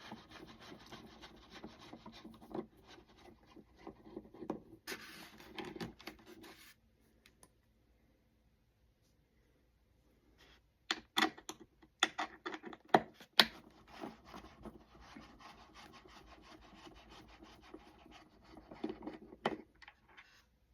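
Screws are worked out of an Xfly B1-B Lancer foam model airplane with a screwdriver, producing close, quiet grinding and rubbing scrapes in uneven bursts, separated by a silent pause in the middle.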